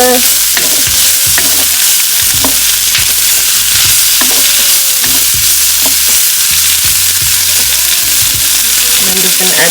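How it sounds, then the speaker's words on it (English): Day-old rice with onions and chicken is stir-fried in a loud, steady sizzle for takeout-style chicken fried rice, with repeated scraping stirs close to the pan throughout. "Now I'm going to also go in with my rice."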